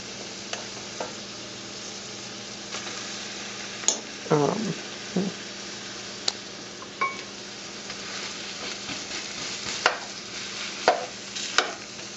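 Fried rice with egg stirred in a pan: a constant soft sizzle of frying under scraping strokes and occasional light clinks of the utensil against the pan, close by with no talking.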